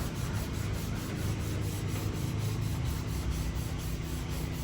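Rust treatment is rubbed onto a Peterbilt 359 truck bumper by hand, giving a steady, close, soft scrubbing friction that runs without pause.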